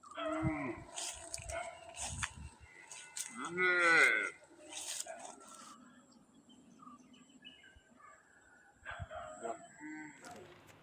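A young calf that has fallen into water gives a few loud, drawn-out moos, with quieter calls and stray voices around it in an otherwise quiet village setting.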